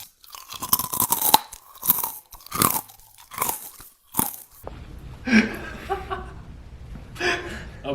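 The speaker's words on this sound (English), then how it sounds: "That's videos on YouTube where people chew really close to the mic." Crunchy chips chewed very close to a microphone make loud, crackling bites and crunches in uneven bursts, followed by softer chewing with brief laughter and voices.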